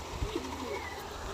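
A short, soft coo from a pigeon inside a loft housing Andhra pigeons, quiet and close, with faint background rustle.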